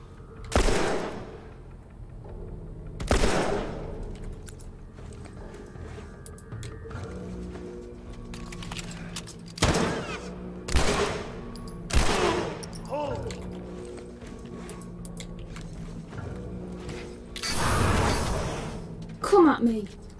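Gunfire in The Last of Us: several sharp, loud gunshot bursts spaced a few seconds apart, with a longer cluster near the end, over low background game ambience and music.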